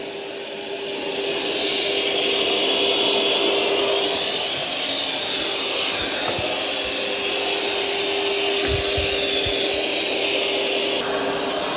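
A Eufy robot vacuum runs over carpet with a steady, loud whirring hiss and a constant motor whine, starting up after a brief quiet moment and continuing evenly throughout.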